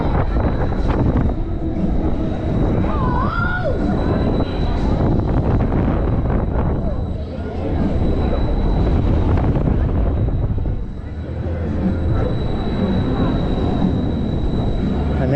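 The Jolt ride at Paultons Park runs in motion, giving a continuous loud rumble and rattle with heavy wind buffeting across the whole stretch and faint voices underneath.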